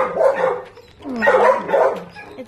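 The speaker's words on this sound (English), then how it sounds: "look at this adorable young dog" Young dog barking at an animal shelter, a few close, high yipping barks in two short bursts with a whimpering edge, loud and clear with no talk.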